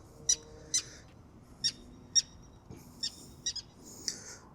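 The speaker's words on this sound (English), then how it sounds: "few seagulls flying around" Seagulls calling near the sea at sunset, about eight short sharp cries spaced irregularly, moderately distant over a quiet background.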